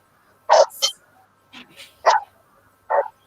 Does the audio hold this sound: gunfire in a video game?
no